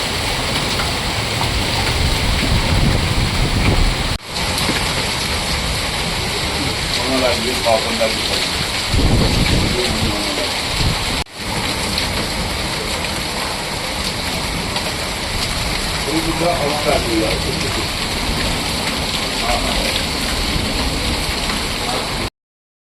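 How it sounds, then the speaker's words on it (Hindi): Hail clatters down in a dense, continuous roar of hard impacts, loud and steady throughout, with a voice speaking faintly underneath at times. "ओले इतने खतरनाक गिर गए यहाँ पर"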